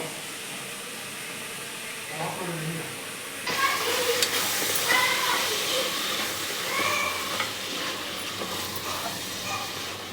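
Chopped tomatoes drop into a hot pan for veg biryani, setting off a sudden, loud, steady sizzle and hiss partway through, after a quieter stretch with faint background sounds.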